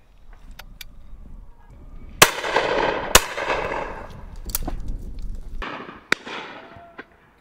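Shotgun shots fired at pheasant, partridge and duck on an end-of-season shoot ring out outdoors as several sharp, loud reports spaced a second or so apart, each trailing off in a brief echo, with quieter distant pops between.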